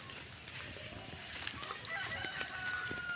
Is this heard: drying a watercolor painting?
no